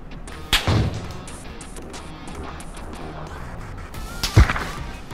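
Two sharp, heavy gunshot bursts in a Korean multiplayer shooter game, one near the start and one near the end, separated by a stretch of low background game noise.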